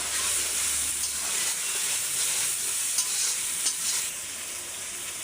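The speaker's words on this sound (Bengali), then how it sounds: "টমেটো কেটে রেখেছিলাম, সেগুলো দিয়ে কষিয়ে নেবো ভালো করে।" Tomatoes, garlic and onions sauté in a hot pan, giving a steady, close, bright sizzle with brief stirring crackles throughout; the sizzle drops slightly in level near the end.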